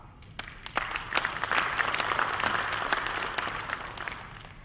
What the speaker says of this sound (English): So please allow me to ask you to give them applause.